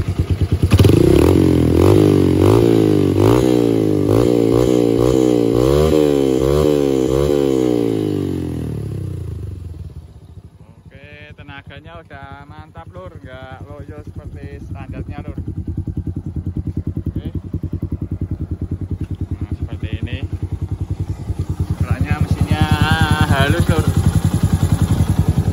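Yamaha Byson motorcycle with a bore-up engine and new exhaust, loud and close, revving up and settling back to a rough idle, with further throttle blips near the end and some clattering.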